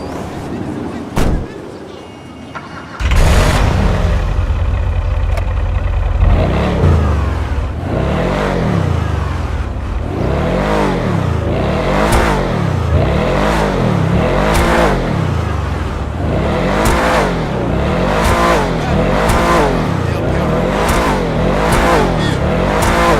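Canis Freecrawler off-road car engine in GTA 5 Online, revving repeatedly in a steady rhythm of rising and falling bursts after a brief quiet start, loud and close with no talking over it.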